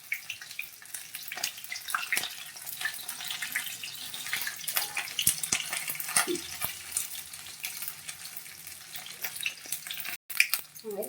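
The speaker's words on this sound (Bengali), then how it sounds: "ওই তেলটাতেই এই রসুনগুলো দিয়ে দিচ্ছি। রসুনগুলো লাল লাল করে ভেজে নেবো।" Garlic cloves frying in hot oil left from frying young jackfruit, a steady crackling sizzle that runs the whole time, broken by a few sharp utensil clicks.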